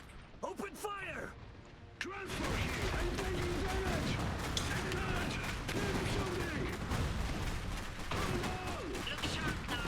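Dense gunfire and explosive bursts from a battle in the Iron Harvest strategy game roar continuously after a brief quieter opening, with a voice calling out commands at the start.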